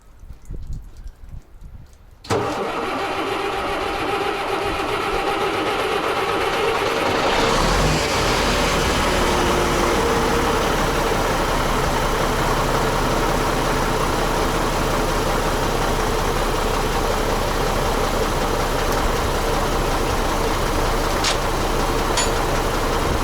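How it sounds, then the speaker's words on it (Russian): An old Renault Magnum truck engine, cold after standing all winter, cranks briefly and then catches, settling into a loud, steady diesel idle that runs unbroken close by. "Magnum, первый запуск после зимы. Посмотрим, как он запустится."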